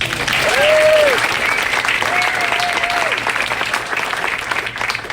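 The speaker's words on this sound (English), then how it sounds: "Let's give a round of applause." Audience applause at a San Jose campaign launch event: a dense, steady wash of clapping lasting several seconds, with a couple of rising whistles cutting through early and midway.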